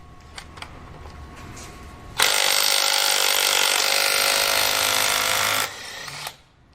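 Snap-on impact wrench hammering loose 140 ft-lb lug nuts on a Ram 1500 pickup, a loud continuous buzzing rattle lasting about three and a half seconds, close up, then a short quieter whir as it winds down.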